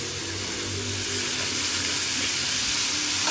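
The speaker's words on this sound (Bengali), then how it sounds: "ঠাকুরের রান্না বান্নার কী খবর আলু ভাজা হচ্ছে" Steady, loud sizzling of potatoes frying in hot oil, a continuous crackling hiss with no voices.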